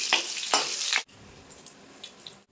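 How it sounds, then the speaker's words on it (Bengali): Boiled jackfruit hits hot oil with a loud, bright sizzle for about a second, then settles into a quieter, crackling fry. "তেলের ভিতর আমি এই সেদ্ধ করা রাখা এচড় আমি ভেজে নেব"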